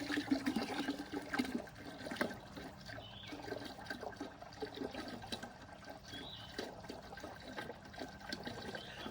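Water gurgles and trickles inside a DIY off-grid water well, a faint continuous bubbling and sloshing with no clear rhythm, heard close but at low level.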